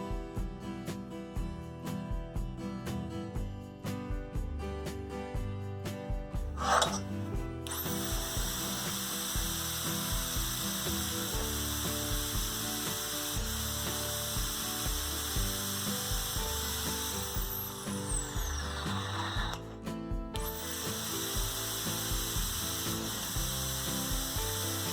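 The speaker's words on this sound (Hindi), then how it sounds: "निशान लगाकर होल कर लेंगे।" Holes being made in amplifier heat sinks, with a steady mechanical grinding and ratcheting whir running nearly throughout, close and moderately loud, with a few brief breaks and no talk.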